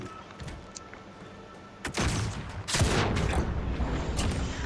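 A sudden loud claymore blast in Modern Warfare bursts out, followed by a second heavier boom and a long rumbling roar that stays loud, with no one talking.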